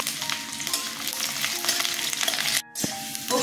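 Garlic fries in hot mustard oil with a steady crackling sizzle, briefly interrupted by a short quiet gap before the frying noise returns.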